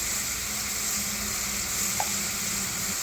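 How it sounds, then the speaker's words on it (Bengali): Spice paste frying with turmeric in a pan, a steady, fairly quiet sizzle with a constant hiss and a faint low hum throughout. "ভালো করে ভেজে নিতে হবে মশলাটাকে"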